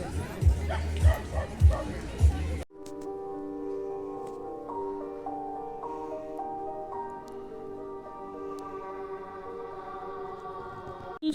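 At a dog show with a boxer and a bull mastiff, several deep barks and yips sound close together for a couple of seconds, then cut off abruptly, giving way to a quiet, tonal background.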